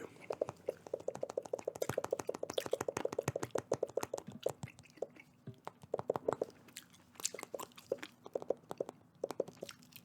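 Close, wet gum chewing with steady smacking rhythm, continuing for several seconds, then slowing into scattered chews and clicks.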